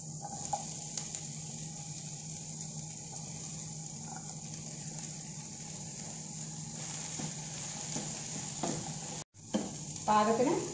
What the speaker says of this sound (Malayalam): ഇനി ഇതിലേക്ക് നമുക്ക് അരിഞ്ഞ് വെച്ചിരിക്കുന്ന പച്ചക്കറികൾ ഇട്ട് കൊടുക്കാം